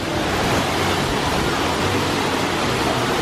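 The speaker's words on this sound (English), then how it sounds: "over here we've got this gorgeous waterfall" A waterfall at the Islands of Adventure theme park, a loud continuous roar of falling water heard up close and filling the scene, with no voices.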